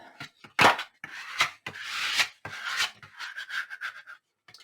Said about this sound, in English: And burnish that really good.